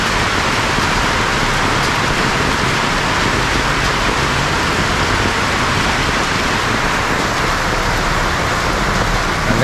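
Steady, loud rain pours down outdoors in a dense, continuous hiss that fills the whole scene without letup, with no one speaking.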